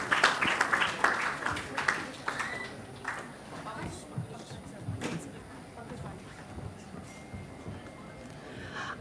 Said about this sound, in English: we need you to applaud for all our teams